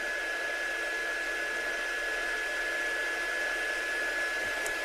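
A hair dryer blows steadily over watercolour stencil dye-based ink, a constant loud whooshing hiss with a thin steady whine running through it, uninterrupted.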